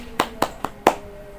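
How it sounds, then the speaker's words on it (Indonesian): An audience of women at a community meeting gives a short, sparse round of applause: four separate claps spaced evenly, close and moderately loud. "tepuk tangannya"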